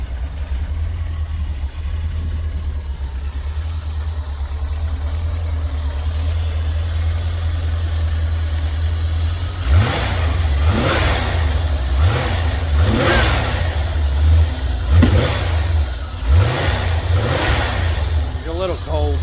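A 1985 Chevrolet Corvette V8 idles with a loud, steady low rumble, then revs repeatedly in quick throttle blips that swell and drop. It sounds close, with some voice under the engine.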